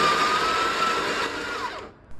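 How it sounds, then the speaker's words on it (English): The built-in grinder of a Breville Barista Express espresso machine running, a loud steady whirring drone that winds down and stops near the end, close and alone. "Obviously the grinder is going to be the loudest"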